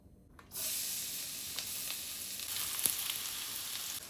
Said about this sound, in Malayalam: ഇനി അതേ പാനിലേക്ക് തന്നെ ഓയിൽ കുറവാണെങ്കിൽ കുറച്ച് ഓയിൽ ഒഴിച്ചു കൊടുക്കുക ഇതിലേക്ക് കട്ട് ചെയ്ത് വെച്ച വെളുത്തുള്ളി ചേർത്ത് കൊടുക്കുന്നുണ്ട്